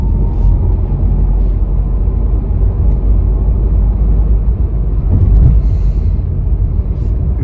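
A car drives in third gear at about 20, giving a loud, steady low engine and road rumble that stays constant and close for the whole stretch.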